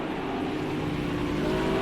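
A pack of GT3 race cars in the Project CARS 2 video game hold steady revs at the rolling start of a race at Spa, producing a dense, continuous engine drone with a sustained tonal whine.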